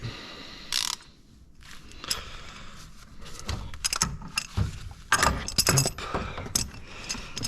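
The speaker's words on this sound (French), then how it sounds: "moi j'utilise une... vu que c'est une cartouche, une clé araignée ou une clé à filtre" A filter wrench works on a cartridge oil filter on a Renault Kangoo 1.5 dCi, giving quiet, irregular metallic clicks, ratcheting and clinks close up. There are short pauses between the bursts.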